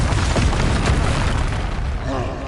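Confringo explosive spell blasts in Hogwarts Legacy, a loud, sustained booming rumble across the whole moment with voices faintly mixed in.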